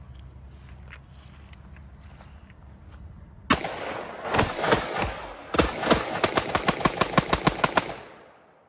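An MK18 rifle fired outdoors: after quiet handling noises, a single loud shot, a short string of shots, then a quick rhythmic burst of about ten rounds, close and sharp with echoing tails.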